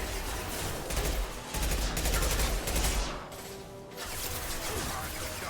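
Concussive Shot gunfire in Mass Effect 2 bursts out as a dense, loud volley of rapid shots and impacts in game combat, tapering into lighter firing, with voices speaking over it.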